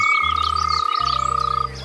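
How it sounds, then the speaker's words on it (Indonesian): A tree frog croaks in a rapid pulsing series, close and clear, over a steady high-pitched insect-like whine and a soft background of chirps. "Bahkan katak pohon terkadang memiliki suara yang kaya."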